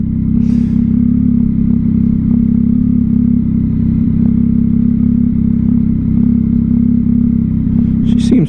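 A 2022 Yamaha XSR900 with a Kelpi Custom Moto shorty exhaust, riding along with a steady, loud low engine drone and faint clatter, broken by a couple of brief higher blips.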